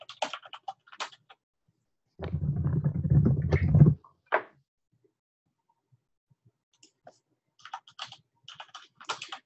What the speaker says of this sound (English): I have a mechanical keyboard, so if you hear me typing very loudly during the webinar